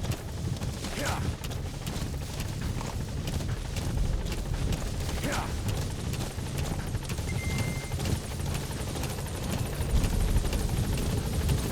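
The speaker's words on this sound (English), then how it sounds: "Support helicopter has arrived." A support helicopter's rotor thumps steadily nearby in Metal Gear Solid V: The Phantom Pain, a constant rhythmic chop over a low engine drone, with faint radio-style voices under it.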